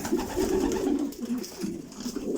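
Pigeons coo steadily in a loft holding young checkered birds, a low throaty warble repeating close by with no talking over it.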